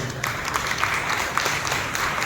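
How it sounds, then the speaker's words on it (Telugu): A church congregation at a Telugu evening worship service applauding loudly, a dense, sustained wash of clapping from many hands filling the room without pause. "బిగ్గరగా చప్పట్లు కొట్టి ప్రభువును భయపరచాలి"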